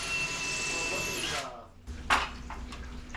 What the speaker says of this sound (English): We are going to screw the cabinet into the floating shelf as well